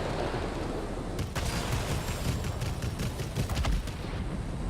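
Gunfire in World of Warplanes air combat, with a Focke-Wulf Fw 252 German fighter, rattles in rapid bursts over a constant loud roar of aircraft engine and wind.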